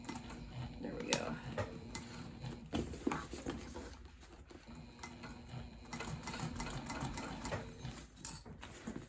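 A hand-cranked sewing machine top stitches a tote bag, producing quiet, uneven mechanical ticks and clunks at close range, with soft talk underneath.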